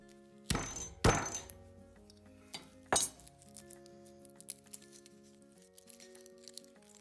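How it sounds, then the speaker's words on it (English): A large flat-bladed knife comes down on a garlic clove, giving a couple of sharp, close smacks against a cutting board on a kitchen counter, then softer clinks and taps as things go quiet. "Start by laying a large flat-bladed knife across the clove of garlic and smash it."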